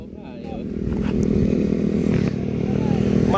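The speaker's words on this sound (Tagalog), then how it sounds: "Yung motor niya, tumatakbo pa yan." A motorcycle engine idles and revs steadily nearby, a low throbbing drone that swells slightly, with brief voices over it.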